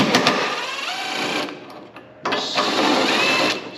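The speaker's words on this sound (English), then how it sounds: "I just have a 1/4 inch impact, just got to be real easy with it" Quarter-inch impact driver removing T40 screws from a rear plastic cover on a 2022 Polaris RZR Pro XP, two close bursts of rapid rattling hammering separated by a brief pause.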